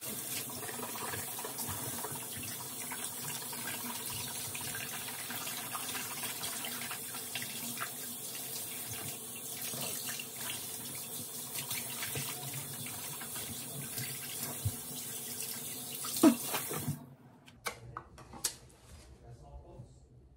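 A bathroom sink tap runs steadily during mouth rinsing, a continuous close splashing stream that stops near the end, followed by a few faint knocks and drips.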